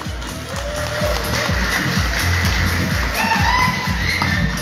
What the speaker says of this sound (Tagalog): makarinig man lang ako ng palakpakan dyan sa crowd